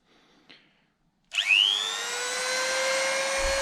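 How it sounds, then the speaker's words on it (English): A Dremel rotary tool polishes a clear glass rear hatch. After a brief tap and near silence, the tool spins up sharply into a steady, close, high-pitched whine that holds to the end. "So I've just been giving it a little bit of a Dremel that you can see all the way along there."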